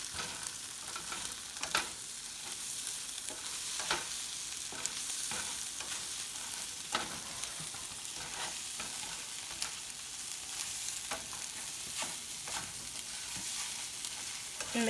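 Scrambled eggs sizzle softly in a pan on a stove turned down to medium-low while a utensil stirs and scrapes them around, with small clicks scattered over a constant gentle fry.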